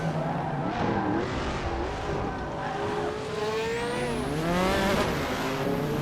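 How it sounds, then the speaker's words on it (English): Racing cars roar through a corner in a racing video game, engines rising in pitch with screeching tyres as one car gets punted by a Cobra, loud and continuous. "I get punted by a Cobra"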